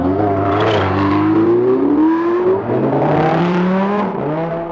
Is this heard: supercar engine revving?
yes